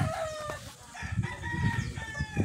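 A sweater white leg gamecock rooster with a long tail crows nearby, with clucking and other fowl sounds mixed in at close range.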